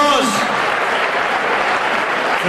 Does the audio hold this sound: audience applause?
yes